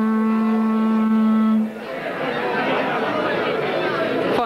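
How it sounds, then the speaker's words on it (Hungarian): Replica of Lehel's horn, made of ivory and blown: a loud, steady, buzzing horn note held for about a second and a half, then a crowd of people chatter in the background. "a lehel kürtje az elefánt csontból volt, ezt meg lehet fújni"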